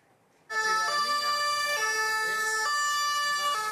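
An ambulance siren wails loudly and steadily, cycling through rising and falling tones after starting abruptly, with traffic noise underneath.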